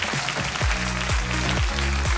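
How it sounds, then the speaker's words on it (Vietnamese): A studio audience at a Vietnamese televised matchmaking show bursts into loud, continuous applause, a dense, even wash of clapping with rhythmic thumps beneath. "một tràng pháo tay thật lớn cho ban cố vấn vào vị trí của mình ạ"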